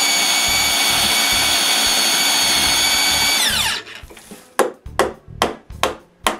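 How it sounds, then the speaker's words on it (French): A power drill boring mortise holes into a wooden beam runs with a steady whine, then winds down and gives way to several sharp, separate bursts of drilling or chopping at close range, with no talk. "Il ne reste plus qu'à percer les trous des mortaises."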